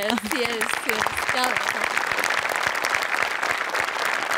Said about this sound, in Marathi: सो आर्ट डिपार्टमेंटसाठी एकदा जोरदार टाळ्या